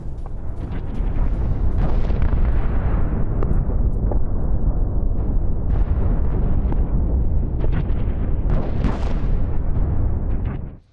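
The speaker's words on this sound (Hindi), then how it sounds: "अब रूसी अग्रिम ठिकानों पर किया गया हमला" Sustained heavy blasts and rumbling explosions from an artillery attack on Russian forward positions in the war in Ukraine, loud and continuous with sharp bursts throughout and no voices.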